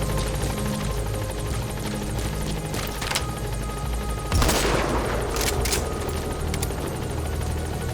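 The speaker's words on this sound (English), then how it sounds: "Support helicopter has arrived." A support helicopter arriving at a landing zone in Metal Gear Solid V: The Phantom Pain, its dense rotor roar steady throughout, with a burst of gunfire and a dull impact partway through and scattered shots afterward.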